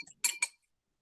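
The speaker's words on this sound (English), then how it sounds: "Whisk it really well, and that way it combines nicely in the broth" Egg being whisked in a bowl for egg and rice soup: two quick bright clinking bursts of a whisk against the bowl, close and brief, then silence.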